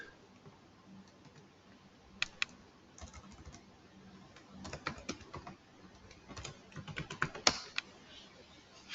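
Computer keyboard keys tapped in uneven bursts while a password is entered, close and fairly quiet, with short pauses between clusters of clicks.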